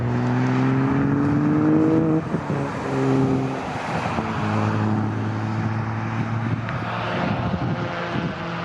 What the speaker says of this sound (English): Andrew Kime and Dan Buckingham also coming into the pits there.